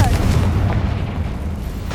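A Confringo fire spell exploding in the Hogwarts Legacy game: a deep, loud boom opening the moment, then a rumbling low tail fading over about two seconds, with speech faintly present.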